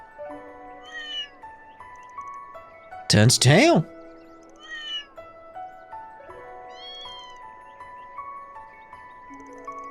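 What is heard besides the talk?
cat meowing in a video game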